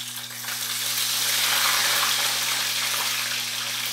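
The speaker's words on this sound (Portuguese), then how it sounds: "E frita" Fish coated in wheat flour fries in hot oil, giving a steady, close, continuous sizzle that swells slightly and holds, with a low electrical hum underneath.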